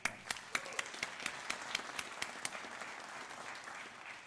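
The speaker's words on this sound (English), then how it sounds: "I want to give her a round of applause" An audience applauds at an annual review event for the speaker's wife and daughter, scattered sharp claps at first settling into a softer, steady patter at moderate distance.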